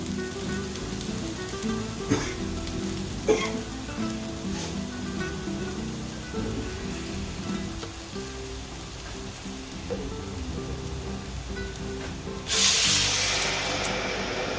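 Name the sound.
water added to frying potatoes sizzling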